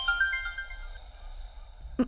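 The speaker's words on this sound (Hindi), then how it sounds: "माँ का फोन।" A mobile phone ringtone plays faintly, a soft tonal melody of held notes, ending in a brief louder chime.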